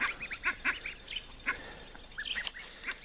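Several Blue Favorite ducks quack and honk in short, repeated bursts, fairly close, with overlapping calls throughout.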